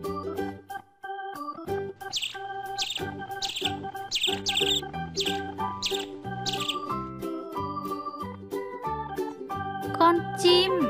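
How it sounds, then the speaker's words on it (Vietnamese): Repeated short high bird chirps in quick bursts over bright, steady children's-song style music that continues throughout, the chirps clustered in the first half and again near the end. "Đây là con chim."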